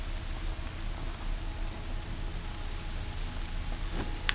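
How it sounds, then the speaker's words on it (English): Steady rain falling in the video game Horizon Zero Dawn, a constant even hiss of drops on surfaces with no talk, holding at an unbroken level throughout. "I feel like it's raining an awfully lot."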